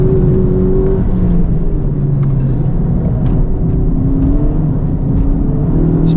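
A 350 hp 2023 FL5 Honda Civic Type R on RE-71RS tires, driven on track, gives a steady loud engine drone and road rumble heard from inside the cabin, with slight rises in pitch and no talk.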